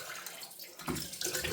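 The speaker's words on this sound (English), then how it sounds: "I'm going to rinse the face with some cold water." Cold tap water splashing as a face is rinsed after a wet shave, a short watery burst that grows louder and rougher toward the end, heard close and with no speech.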